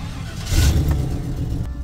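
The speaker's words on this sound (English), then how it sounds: "We get to ride in the old pickup." An old pickup truck drives along, a close engine rumble and road noise holding steadily and swelling briefly, with faint background voices.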